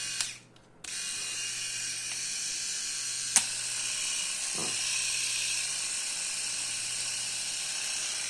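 An ENCHEN rotary electric shaver switches on after a brief click and runs at a single speed with a steady high-pitched buzzing whine close by, broken by a couple of small clicks.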